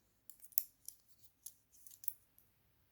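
Scissors snip yarn during sock knitting: a run of soft, crisp, close snips in quick irregular succession, faint and otherwise quiet.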